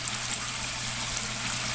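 Water from a pump-fed vortex fountain pours steadily over its edge, making a constant close rushing splash with no pauses.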